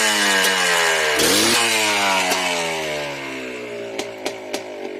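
A Yamaha Blaster ATV engine runs loud and close on a two-stroke idle that rises and falls a little. A few sharp clicks or pops come near the end.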